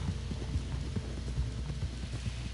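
Horse hooves clip-clop in a quick, steady gallop rhythm in Red Dead Redemption, close and continuous over a low rumbling hum, with no talking.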